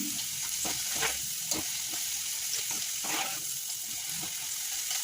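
Okra frying in hot oil for a crispy kurkure snack, with a steady close sizzle and scattered stirring scrapes throughout, no talking.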